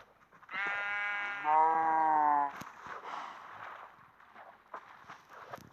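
A single loud, wavering sheep bleat from Minecraft lasting about two seconds, followed by softer rustling and shuffling noises.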